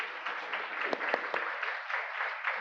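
Church congregation applauding to welcome a student during a Sunday service, a dense patter of clapping with a few sharper individual claps standing out, moderately distant.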